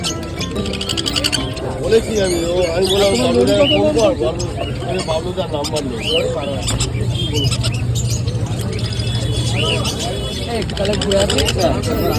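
Birds calling at a busy open-air animal and bird market, high squawks and chirps mixed into a loud crowd of voices and people talking nearby throughout.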